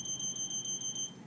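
A multimeter in continuity mode gives a steady high electronic beep for about a second, close and fairly loud over a low background hum while the probes touch, with no talking.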